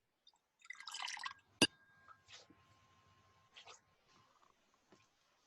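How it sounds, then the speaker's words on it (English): Water poured into a bowl three times as a libation at a commemoration ritual, heard as a soft splashing pour followed by a sharp clink and a few quieter, separate trickles and drips, close and alone with no talk. "pour your water in the bowl 3 times"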